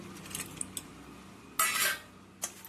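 Prawns being mixed by hand with salt, chili powder and green chilies for a prawn biryani, with a few light clinks of a utensil against a bowl and a louder scraping burst near the middle, otherwise quiet.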